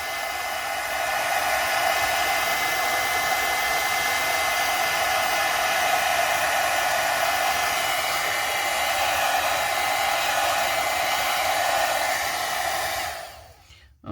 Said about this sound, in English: as soon as I turned on the dryer, it blew it off